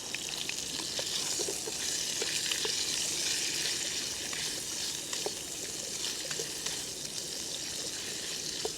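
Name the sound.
sausage frying in olive oil in a stainless mess kit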